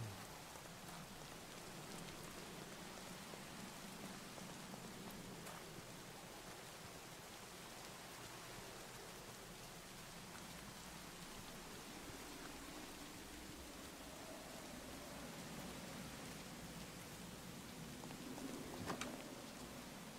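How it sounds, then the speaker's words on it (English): Rain falls steadily in the video game Minecraft as a soft, even hiss of drops with no talking. "Man, there's a lot of rain over here."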